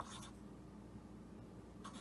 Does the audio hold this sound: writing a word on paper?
yes